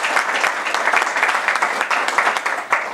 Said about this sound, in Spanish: Les pido un aplauso para Gerardo